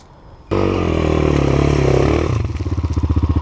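A Chinese enduro motorcycle, a Forte CBA 250 or Hornet Dakar Pro, has its engine started and running up close on a mountain climb. A steady loud idle runs for a few seconds, then settles into a rhythmic pulsing putter.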